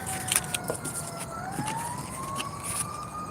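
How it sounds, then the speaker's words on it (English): An emergency siren passes outside, its wailing tone sliding slowly upward at moderate distance over steady traffic rumble, with no one talking. "Oh, good, another siren."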